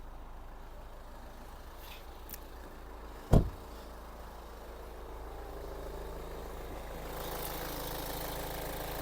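A Kia Sorento engine idles in a low, steady drone throughout, broken once by a short sharp knock partway through; no one speaks.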